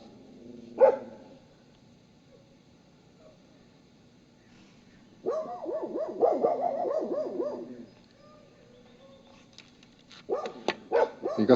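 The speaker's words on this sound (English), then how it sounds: "You got some entertainment here from the dogs." Dogs bark near Boundary Bay by a White Rock eagle nest. A sharp single bark is followed by a longer burst of excited yipping barks, then another cluster of barks at a moderate distance.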